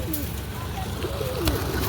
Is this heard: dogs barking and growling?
no